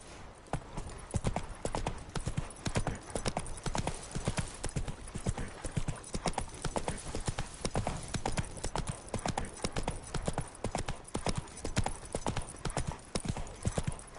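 Galloping horse hooves in The Witcher 3: Wild Hunt video game, a fast, driving rhythm of loud close hoofbeats thudding continuously throughout with only slight pauses, no speech over it.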